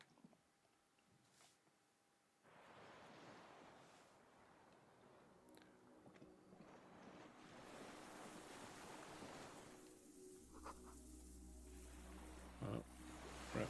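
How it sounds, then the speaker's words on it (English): Distant rushing water far below in a video game, a steady broad wash with wind-like texture that swells midway, joined by a low droning tone near the end. "Water rushes below, far below."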